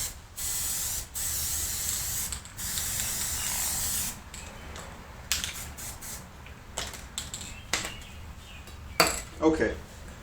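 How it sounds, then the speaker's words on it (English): An aerosol can of spray adhesive sprays in several long hissing bursts up close, held sideways, followed by a few clinks and light handling sounds. "I'm not sure if this really sprayed right, since I was spraying sideways."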